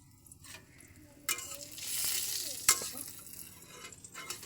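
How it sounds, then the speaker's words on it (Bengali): An egg fries in a pan with a steady sizzle that swells and fades, broken by a few sharp stirring clinks and scrapes, while a voice speaks faintly now and then. "ডিম ভাজতেছি।"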